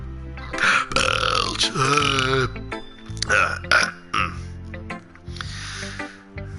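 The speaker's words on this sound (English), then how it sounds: "Here comes the burp." A long, loud, gurgling burp rolls on for several seconds with changing pitch and a few snorting bursts, close up, as the streamer plays Doki Doki Literature Club+.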